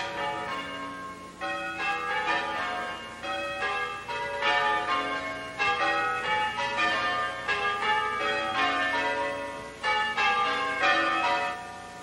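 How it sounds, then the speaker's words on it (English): Several church bells peal together in overlapping, resonant strikes, a loud continuous chorus of ringing with no voices. "a chorus of church bells"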